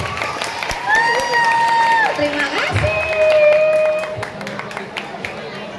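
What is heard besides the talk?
audience applause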